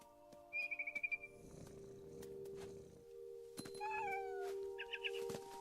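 A cat in the video game What Remains of Edith Finch gives a rapid rhythmic purr, then a few short, faint meows and a chirpy trill over a quiet hum.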